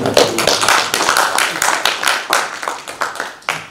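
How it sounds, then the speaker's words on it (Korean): A small group claps briskly for a few seconds, sharp close handclaps tapering off toward the end. "이때 박수 쳐야 돼요, 박수."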